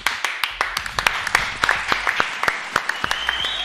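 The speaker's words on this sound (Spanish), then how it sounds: "Aplauso." Small group applause with sharp, irregular hand claps over a steady patter, close and fairly loud, lasting a few seconds without any talk over it.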